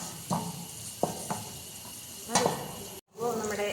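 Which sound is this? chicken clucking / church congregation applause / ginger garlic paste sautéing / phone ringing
ginger garlic paste sautéing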